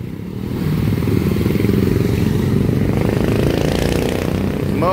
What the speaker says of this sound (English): Motorbikes, tricycles.